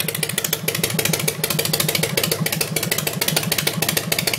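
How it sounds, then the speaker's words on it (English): A chopper motorcycle engine idles with a loud, close, steady rhythmic chugging pulse that repeats evenly throughout, with no voices. "What a fine looking machine. With Dale on his new bike."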